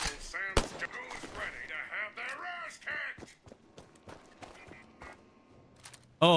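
Scattered gunshots in the Fallout 4 video game crack sharply, a loud one near the start and another at the end, with a few fainter shots between, all under a voice talking through most of the stretch.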